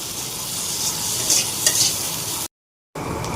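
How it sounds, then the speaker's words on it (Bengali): Potatoes fry in a pan for a Bengali prawn and pointed gourd curry, giving a steady, close, hissing sizzle with a few brief bright crackles. The sound cuts out for a moment, then the frying resumes. "আলুগুলি কিছুক্ষণ সময়ের জন্য ভাজবো।"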